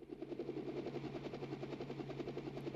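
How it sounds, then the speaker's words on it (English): Helicopter in a video game, its rotor chopping in a steady rapid rhythm over a low engine hum, faint and continuous. "A helicopter?"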